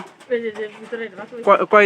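Pigeons in a home loft coo in a short, close run of low, throaty calls that rise into a louder, more insistent burst at the end.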